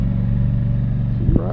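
A Scag V-Ride 2 stand-on mower with a 61-inch deck runs at a steady, loud idle-to-working drone, its engine hum continuous throughout, with a brief rise near the end as someone briefly speaks over it.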